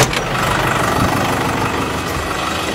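A tractor engine idles steadily close by, a constant low mechanical rumble with a slight rise near the start, alone with no voices over it.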